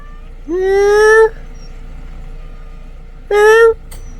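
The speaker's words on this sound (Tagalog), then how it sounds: "Ayan yung pusa namin." A cat meows twice, close and loud, a long rising meow followed by a shorter one after a pause.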